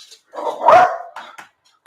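A dog gives a single short bark at middling distance, followed by a couple of faint yips, outdoors by a river with brief quiet gaps around it.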